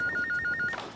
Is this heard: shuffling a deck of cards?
no